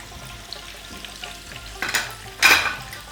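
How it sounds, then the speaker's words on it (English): Fish pakora deep frying in oil in a kadai, a low steady bubbling that swells into two louder crackling bursts near the end, close and without speech. "We'll fry at least 2 to 3 minutes one side, and I will move the other side also."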